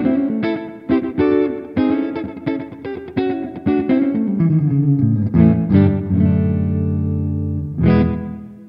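Electric guitar run through a Primo plugin, notes ringing out with heavy delay feedback and about thirty percent reverb, bright repeated plucks smearing into a sustained wash before a final accented phrase, loud and alone.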